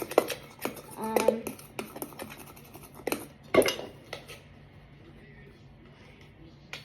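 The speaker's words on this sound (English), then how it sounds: "I'm just going to be using a chopstick, and I'm just kind of mixing it all up right now" A chopstick mixing ingredients in a bowl, giving quick clinking and scraping taps in uneven bursts that fade toward the end, with no talk.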